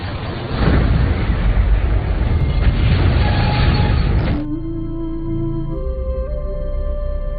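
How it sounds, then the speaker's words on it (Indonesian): A loud, roaring landmine explosion rumbles for several seconds, then cuts to quieter tonal music. "Saat Igor melepaskan ranjau itu langsung meledak dan ledakan besar membuatnya juga terbunuh"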